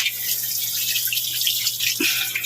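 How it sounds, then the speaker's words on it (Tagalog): Water runs steadily from a tap as pork meat is washed in a basin, a continuous close splashing and trickling with a few small sloshes from handling the meat. "Ngayon ay, hugasan na natin."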